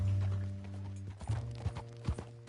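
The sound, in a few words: horse hooves clip-clopping in a PS4 video game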